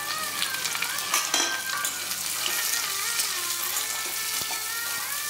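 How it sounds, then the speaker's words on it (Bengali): Chopped onion fries with potatoes in a pan for chole bhature, a soft, steady sizzle with occasional stirring scrapes and light utensil clinks, close but quiet, no talking. "আমি এখন এর মধ্যে একটা ছোটো পেঁয়াজ কেটে রেখেছি, সেটা দিয়ে দিচ্ছি। দিয়ে আলুর সাথে ভালো করে ভেজে নেব।"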